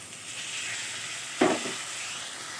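Tomato dropped into curry frying in a pan for a tangra fish jhol, a steady sizzle with one short, louder splash-hiss as it lands, no talking.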